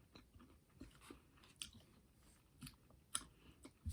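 A Crunch candy bar is bitten and chewed close to the microphone, quiet crisp crunches and clicks repeating irregularly with no talking.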